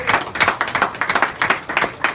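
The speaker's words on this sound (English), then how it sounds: "Big round of applause for David Britton." An audience at a comedy club applauds comedian David Britton with close, fairly loud clapping, a brisk burst of overlapping hand claps lasting a couple of seconds.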